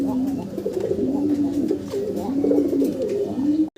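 Pigeons coo continuously in low, rolling, repeated calls close by at a pigeon market, forming a steady warbling murmur.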